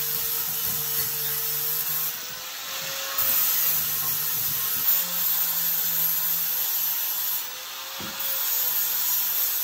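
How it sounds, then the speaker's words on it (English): A cheap Hyper Tough angle grinder scours a cast iron skillet, a steady loud motor whine with a rasping grind that dips briefly as pressure shifts, continuous and close throughout. "The grinder is a much better tool, more effective, it's built for it."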